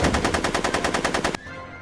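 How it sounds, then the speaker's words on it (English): Rapid machine-gun fire in a movie scene, a fast, loud, even rattle of shots that cuts off abruptly, leaving a brief quiet tail. "I'm finding it difficult to concentrate with all the bullets flying around my head"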